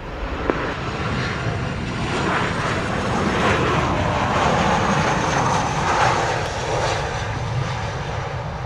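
A Delta airliner comes in to land on runway 7 at Montego Bay, its engines a loud, steady roar that swells slightly mid-clip and holds without a break, with no voices over it.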